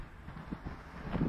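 Steady wind buffeting the microphone outdoors on a cloudy day in mountain scenery with palm trees, a continuous low rumble with soft gusts swelling toward the end.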